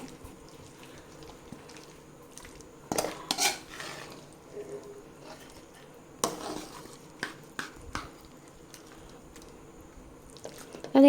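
A spoon stirs milk tapioca in a pot, with scattered metallic clinks and scrapes against the pot standing out from a quiet kitchen background.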